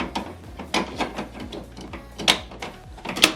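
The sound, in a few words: inserting ink cartridge into HP DeskJet 2810e printer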